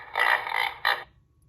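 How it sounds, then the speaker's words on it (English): A pig grunts and snorts twice, a longer rough grunt followed by a shorter one, loud and close against a quiet background. "Sound of pig."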